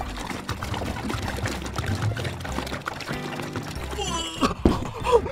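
Water poured into a container for a sink-or-float density demonstration, a close, splashing, gurgling stream that fills steadily with some louder splashes near the end and a voice briefly heard.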